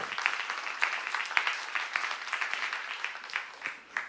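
A church seminar audience claps in a moderate, steady wash of applause with a few sharper individual claps standing out throughout.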